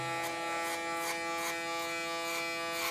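An electric hair clipper buzzes steadily through an ultra-short haircut, its close, constant whine pulsing as the blades pass through the hair in repeated strokes.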